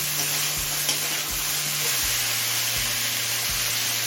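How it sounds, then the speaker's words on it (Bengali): Mixed vegetables fry on a medium flame in a pan, giving a steady broadband sizzle with a few soft stirring knocks and a low hum underneath. No one speaks. "এবার মিডিয়াম ফ্লেমে আরও কিছুক্ষণ সবজিগুলো ভেজে নেব"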